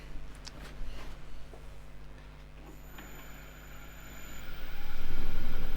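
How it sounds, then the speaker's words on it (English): Richard Raffan's wood lathe winding up in speed, a steady low motor hum with faint clicks and a thin whine that swells to a loud, rattling drone by the end. "Wind it up until the lathe start rattling and then back a fraction."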